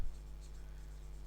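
Faint scratchy marker or chalk strokes on a board during a classroom accounting lecture, brief and continuous over a low room hum, with no talking.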